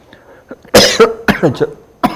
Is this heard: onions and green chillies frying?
no